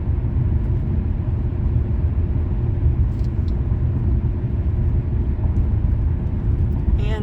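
A car driving down a gravel mountain road, heard as a steady, loud low rumble of engine and tyres that continues unbroken throughout, with someone talking over it.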